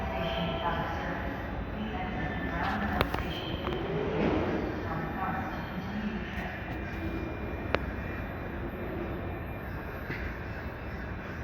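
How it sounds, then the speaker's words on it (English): A Metrorail train comes down the track at the MIA Tri-Rail station, producing a steady, broad rumble that lasts throughout, with birds cawing now and then over it. "There is, in fact, a train coming down the track."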